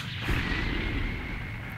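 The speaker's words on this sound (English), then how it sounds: "I miss the old Mega Man explosions." Explosion effects in the video game Mega Man X4, a dense booming rumble with crackling bursts that holds steady and loud for the whole stretch, with no talking.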